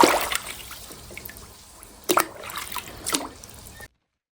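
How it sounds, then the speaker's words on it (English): Toy dinosaur being washed in water, with short splashing and trickling bursts separated by quiet pauses before the sound cuts off. "Let's wash it in water."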